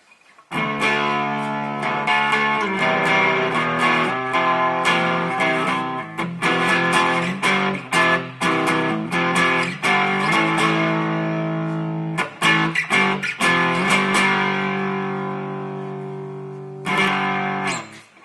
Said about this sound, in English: that's just giving me the basic overdrive tone, but still with a nice bit of resonance from the reverb pedal